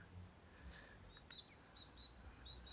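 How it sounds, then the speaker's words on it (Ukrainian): Faint, high chirps and short tweets from birds scattered across a quiet outdoor vegetable garden on a sunny spring day, with a low background hum and no talking. "Пташечки співають."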